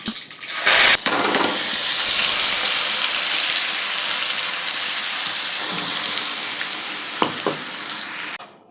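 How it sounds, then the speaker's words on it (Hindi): A loud, steady sizzle of mustard seeds and curry leaves hitting hot oil for a chutney tempering, with sharp crackles at the start that settle into a continuous hiss. "चटनी में देना है तड़का राई और करी पत्ते का"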